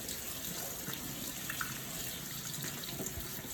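Tomatoes rinsed under a running kitchen tap, a steady faint hiss of flowing water splashing in a sink, no talk.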